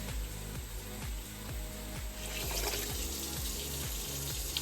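Water pours steadily into a pot over medium heat for muscadine juice, just enough to cover the fruit. It's a continuous, moderately loud rush that grows fuller partway through, with a faint rhythmic background underneath.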